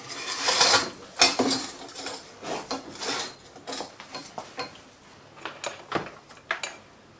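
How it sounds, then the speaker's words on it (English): A handheld video light scrapes and knocks against a bicycle hanging from a workshop ceiling, giving rasping rubs and light metallic clatters in irregular bursts, with a sharper knock near the end, close and moderately loud. "now I bumped the video light against a bicycle that is hanging from the ceiling"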